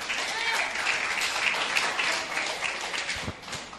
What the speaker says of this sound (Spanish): Dale un fuerte aplauso a Jesucristo.